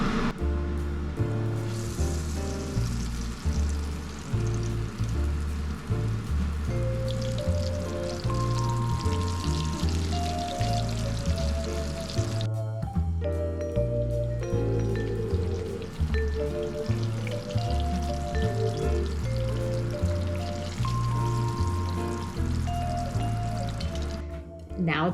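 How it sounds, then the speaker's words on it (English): Battered pieces sizzling in hot oil during a 1920s-style home dinner, a steady loud crackle and bubbling that runs continuously, with a brief dip midway, and no talking over it. "Let's get it frying."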